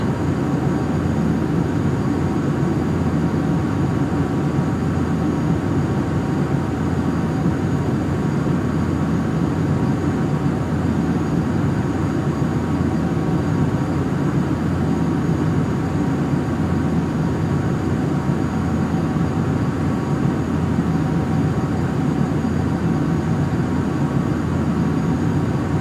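CRJ 700 jet engines hold steady thrust in FSX, a continuous loud droning roar with a whining hum that stays level and unbroken throughout.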